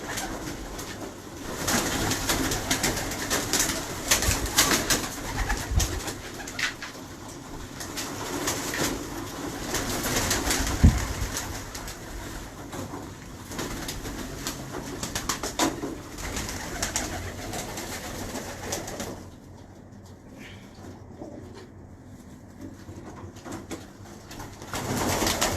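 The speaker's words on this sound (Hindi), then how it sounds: "ये देखो दोस्तों, ये कबूतर मेरा खुद का तैयार किया हुआ है" A hand-raised pigeon at a Pakistani pigeon club coos softly at intervals amid faint outdoor ambience, moderately close with a few small rustles.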